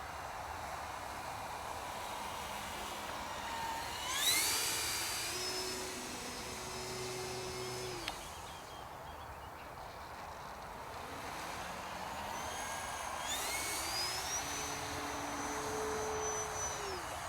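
E-flite Turbo Timber Evolution radio-controlled plane in flight, its electric motor whine rising and falling in pitch as it passes and throttles, heard at a distance over steady wind and background noise.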